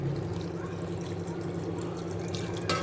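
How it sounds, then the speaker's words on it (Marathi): Water is poured into a pot holding tamarind and jaggery, a soft continuous splashing trickle, close and fairly quiet, with a brief clatter at the end. "हा सगळा याच्यामध्ये मी पाणी घालणार आहे थोडंसं"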